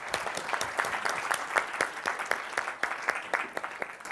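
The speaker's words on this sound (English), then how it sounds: "let's give a quick round of applause to the panel." A conference audience applauds a panel at an energy event, a full round of clapping with distinct sharp claps rising out of the crowd and slowly thinning toward the end.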